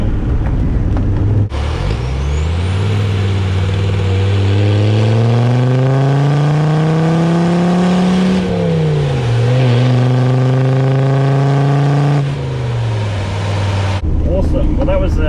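A Land Rover Defender Td5 engine revs up with a rising, then falling pitch, dropping back to idle, over a steady hiss of heavy rain.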